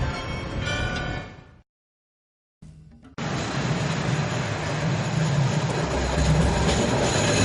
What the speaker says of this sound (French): Ici, nous sommes en présence d'un tram à voie métrique.